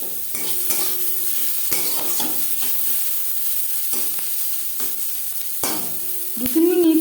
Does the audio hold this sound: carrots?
yes